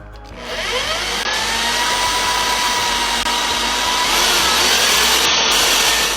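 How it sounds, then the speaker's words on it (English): A power drill runs continuously and loudly, its motor whine rising and bending in pitch as it bites through wood, with no voices. "now we're just gonna go ahead and put the drill through the original hole that we had already made"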